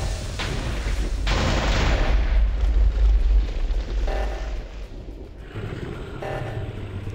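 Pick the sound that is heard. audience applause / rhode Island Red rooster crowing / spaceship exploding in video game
spaceship exploding in video game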